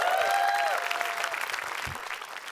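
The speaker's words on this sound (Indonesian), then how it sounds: "Tepuk tangan buat stand up comedy Indonesia." A stand-up comedy audience in Indonesia claps, with loud applause at the start that thins and fades over a couple of seconds. A faint whistle-like tone rings above the clapping early on.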